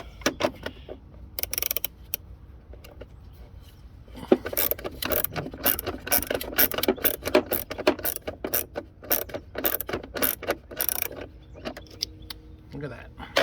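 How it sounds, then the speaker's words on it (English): Wrench tightening a connection on a John Deere starter solenoid, rapid clicking ratchet bursts with metallic rattles, starting sparse then dense and irregular, close and moderately loud. "I'll finish it off with a wrench."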